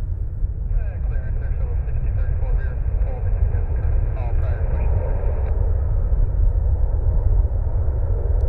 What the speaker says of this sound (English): A little parallel runway action with the United here on the right side.